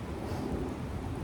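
Steady rain falls on a cold, foggy day at a running track, a dense continuous rumbling hiss with a wind-buffeted low roar and no voices.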